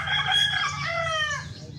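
A rooster crows once, a long rising then falling call, loud and close, over a low steady background hum.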